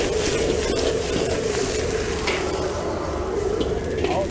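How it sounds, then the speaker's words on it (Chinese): Hand-torn cabbage, already partly cooked, stir-fries over high heat in a wok with only oil, giving a loud continuous sizzle with scraping and stirring throughout and no talking. "开大火爆炒几下。"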